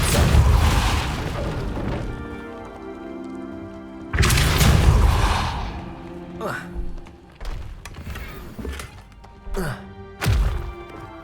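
A Depulso spell blast in the video game Hogwarts Legacy, two heavy booming impacts followed by several lighter thuds and whooshes over a tonal musical background.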